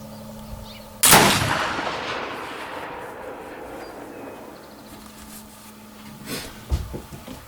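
A single sharp, loud Kibler Woodsrunner rifle shot cracks close by, its report decaying over a couple of seconds, followed by faint quieter knocks and bumps near the end.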